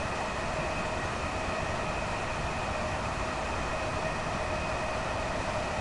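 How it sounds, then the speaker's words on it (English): A Gatwick Express train sweeps past on the opposite track in Train Sim World 2, a steady roaring wash of wheel and air noise with faint tonal hums, loud and unbroken throughout. "I do love how well they've done the sound effect of the train going past in the other direction."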